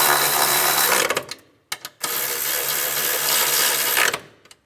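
Power tool tightening bolts on a 2004-2010 BMW X3 starter, two long buzzing whirring runs split by a brief pause and short bursts, close and loud with no talk.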